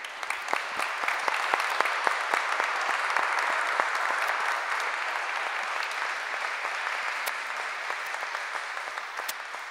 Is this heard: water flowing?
no